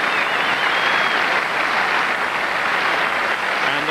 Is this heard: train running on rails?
no